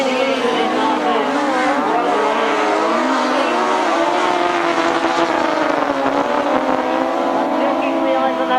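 Grasstrack motorcycles race through the last lap of a 1992 British Masters qualifier, their engines a loud, continuous wavering roar that rises and falls as the bikes circle, heavy and unbroken throughout.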